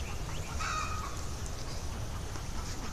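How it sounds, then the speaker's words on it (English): Free-ranging Khaki Campbell ducks and other fowl call outdoors, faint scattered quacks and honks over a steady low background rumble, distant rather than close. "There's some khaki Campbells coming this way."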